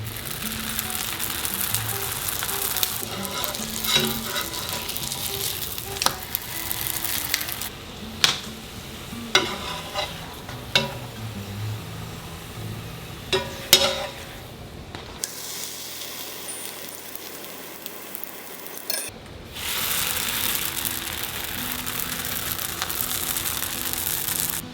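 Naan bread cooking in a frying pan, a steady sizzle and scrape running throughout with a few sharp knocks and a brief quieter break near the middle.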